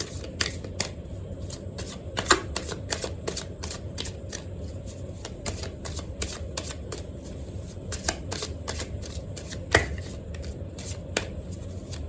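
A tarot deck shuffled by hand, a steady stream of close, crisp card flicks and slaps over a low background hum, with no talking.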